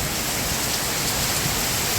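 Heavy rain pours down steadily on a motorcycle trail ride in the Philippines, a loud, dense hiss with no breaks and no voices.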